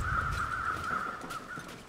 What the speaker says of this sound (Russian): Сраные вороны